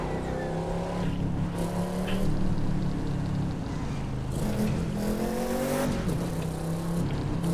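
A race car engine in the video game The Crew 2 whines and drones continuously, pitch climbing and dropping with gear shifts, steady and fairly quiet with no voices.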